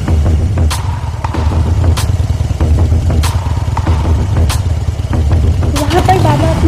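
A cartoon motorcycle engine rumbles steadily and loudly as the bike arrives, with a low throbbing drone running throughout and brief sharp effects cutting across it.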